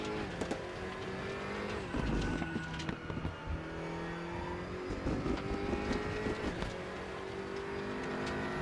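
A GT3 race car circles Spa in RaceRoom, its engine a steady, droning whine that shifts in pitch as it coasts and picks up again, with brief tyre scrubs and other cars passing.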